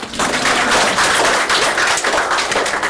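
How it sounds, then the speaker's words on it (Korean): Dense audience clapping at a Korean startup forum presentation, loud and steady throughout, with no voices over it. "보통 이런 박수가 나와야 됩니다"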